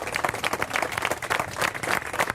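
A crowd at a candlelit vigil demanding justice for Nancy claps in a dense, steady burst of applause, fairly close and continuous throughout.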